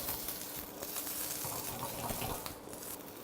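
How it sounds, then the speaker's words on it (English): Bell peppers hitting a hot pan for sweet and sour pork, giving a steady close broadband hiss and sizzle with small crackles throughout, no voices. "I put my peppers in first."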